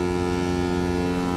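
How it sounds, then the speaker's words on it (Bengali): A medium-sized river launch carrying passengers chugs along on the water, its engine giving a steady, loud droning hum with a deep tonal throb that holds constant throughout, with no talking. "নদীর বুকে চলেছে এক মাঝারি লঞ্চ।"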